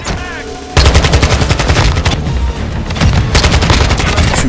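Heavy gunfire from a VTOL aircraft in the Call of Duty video game: after a brief quiet start, loud, continuous rapid bursts of shots and booms keep going without a break.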